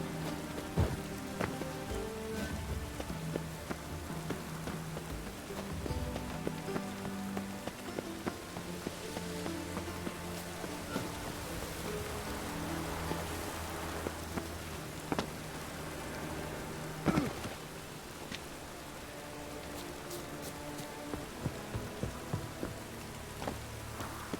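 Rain falling on a town in The Witcher 3, a continuous patter of drops over a busy bed of game ambience, with occasional sharper clicks and knocks scattered throughout at a fairly low level.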